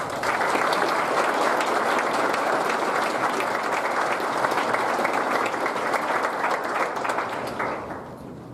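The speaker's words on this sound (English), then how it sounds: "Please give them a round of applause." A big audience at a completion ceremony claps continuously in a full, even roar of applause that fades slightly at the very end.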